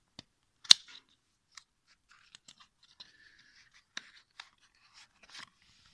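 A package of playing cards being opened up close: sparse crisp crinkles, tears and clicks of wrapping, one sharp rip early, then scattered soft rustles in near silence.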